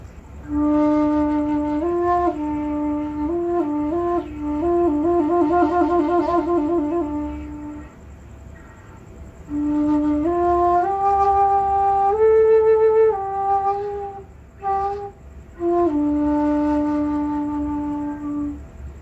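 A breathy, hollow-toned flute plays a slow melody in two phrases, sustained notes with some warbling trills, separated by a brief pause.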